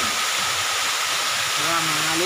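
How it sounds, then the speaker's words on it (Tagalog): Broad, steady rushing roar of a waterfall in a barangay setting, heard close throughout, with a person talking over the water. "Umabot tayo sa falls."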